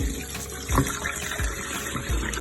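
Salted mackerel rinsed under running water, a steady gush of tap water with soft splashes and handling noises.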